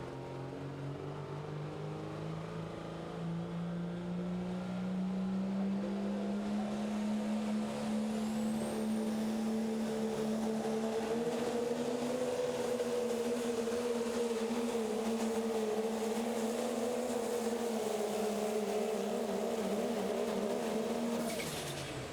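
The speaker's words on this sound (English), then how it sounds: "he gets out of the throttle, and you hear that turbo chirp as it spools down" A Pro Stock diesel pulling truck, a white Dodge, drones under load at a 2019 pull in Terre Haute, Indiana, with engine pitch rising slowly, heard at a distance, and a thin high whistle as the turbo spools down.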